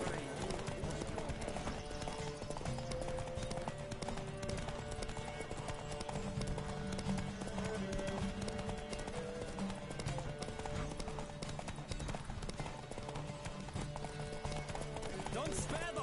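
A horse gallops through The Witcher 3 video game, its steady clip-clop hoofbeats running the full length beneath continuous music and a shouting voice.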